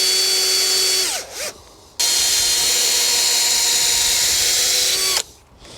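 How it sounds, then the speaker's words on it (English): Power drill boring a hole through a length of timber held to a bracket on a polytunnel frame: a loud close whine that winds down, briefly stops, then runs steady for about three seconds before cutting off. "I can offer it up to the bracket and drill a hole through."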